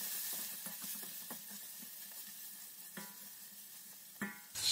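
A steady sizzle of peppers frying in a hot pan, with occasional stirring scrapes and a louder hiss near the end.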